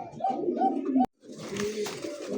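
Domestic pigeons of local breed, healthy and restless, coo in a close, steady chorus of low throaty phrases, broken by a sharp knock and a short gap before the cooing resumes with fainter background chatter.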